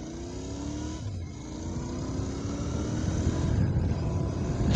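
A 600 cc motorcycle pulls away in first gear, its engine note climbing steadily as it gathers speed, loud and close with rushing wind, and no voices.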